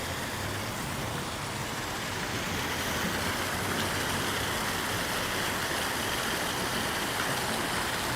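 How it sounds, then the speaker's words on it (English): A waterfall in the landscaped grounds of a Toronto rental complex, next to a koi pond, gives off a steady, dense wash of rushing water, constant and unbroken from start to finish. "And that waterfall"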